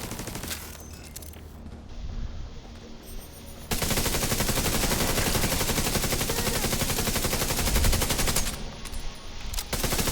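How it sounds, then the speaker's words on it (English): Sustained automatic gunfire from the video game The Division 2, a loud, dense burst of rapid shots lasting several seconds after a quieter start, with no talking over it. "I'm shooting him in the leg."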